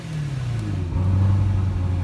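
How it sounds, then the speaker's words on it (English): Deep exhaust rumble from a 2017 Corvette Z06 tuned to 1400 horsepower, a steady low drone that swells louder partway through as the engine note drops and settles, close by with no talk. "When you got that kind of an exhaust, everybody knows that you are home."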